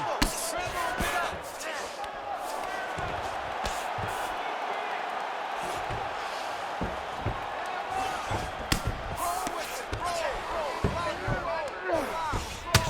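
Punches landing in ground and pound strikes in the UFC 5 video game, sharp slaps and thuds scattered irregularly over a roaring arena crowd, with commentary voices talking throughout.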